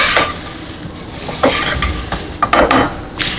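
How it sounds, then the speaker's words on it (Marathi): Spiced chivda being stirred in an oiled pan over very low gas, with a steady rustling scrape of the spoon and soft crackle, plus a few clinks of metal on the pan. "हा असाच एक 3-4 मिनिटं आपल्याला गॅस एकदम कमी ठेवून ढवळून घ्यायचा आहे."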